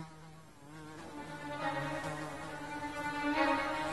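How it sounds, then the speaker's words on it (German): A housefly buzzes in flight with a steady, droning hum that swells louder toward the end, close to the listener, with no voices. "Wenn die Fliege beschließt zu fliegen. Eine Stubenfliege"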